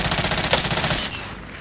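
An automatic gun in a video game fires a rapid, loud burst of evenly spaced shots for about a second, then cuts off, leaving a fading tail.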